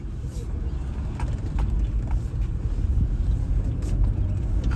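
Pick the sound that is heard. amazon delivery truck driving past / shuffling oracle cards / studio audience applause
amazon delivery truck driving past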